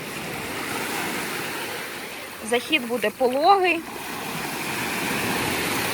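Sea surf washes steadily onto a wide, gently sloping sandy beach in a bay on Crete, a continuous near wash of waves, with a person speaking briefly over it midway.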